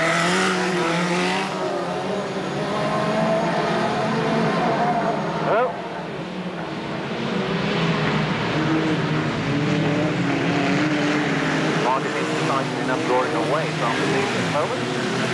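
BriSCA Formula 1 stock cars race around the Boston oval, 1991, their engines roaring loud and continuous with shifting pitch as cars pass, while a commentator talks over the dense racing noise.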